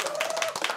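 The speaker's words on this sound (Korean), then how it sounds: "박수 부탁드립니다" A Catholic senior academy audience in Seoul claps and cheers for an entertainment host, with dense rhythmic clapping and a sustained voice or tone running through it.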